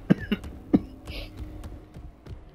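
A man coughs a few times in quick succession near the start, sharp bursts in a damp room, followed by quieter shuffling and low background sound during gameplay.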